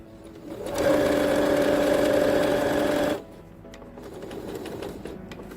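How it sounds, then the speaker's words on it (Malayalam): A sewing machine stitches the corner of an elastic bedsheet, running steadily and loudly for about two seconds with an even mechanical hum, then stopping to quieter handling sounds and light clicks. "ഇങ്ങനെ ഈ എൻഡ് വരെ സ്റ്റിച്ച് ചെയ്തെടുക്കാം."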